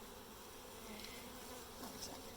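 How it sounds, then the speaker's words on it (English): A dense, steady hum of many honeybees buzzing close by as they are dumped into a new hive, continuous and fairly soft, with no voices. "You literally dump the bees in."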